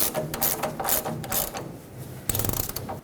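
Ratchet clicking steadily as it tightens the pitman arm mounting nut on a 2011-2016 Ford F-350, a quick run of close mechanical pawl clicks with a louder burst near the end.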